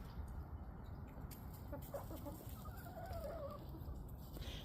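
Hens clucking a few times in the middle, soft and fairly close, over a steady outdoor background hiss.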